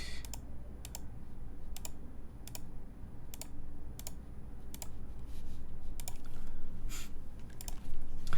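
Mechanical keyboard with KTT Matcha switches on an FR4 plate in an ergonomic prototype build, typed in a steady run of sharp close clacks over a low background hum, with no voices.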